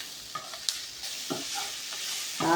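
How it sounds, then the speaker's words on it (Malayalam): Garlic sautéing in a pan with salt for brinjal tamarind curry, a soft steady sizzle with a few scraping stirs and clinks of a spatula, no talking. "കുറച്ച് ഉപ്പിട്ടിട്ട് ഒന്നും കൂടി നന്നായിട്ട് വഴറ്റിയെടുക്കാം."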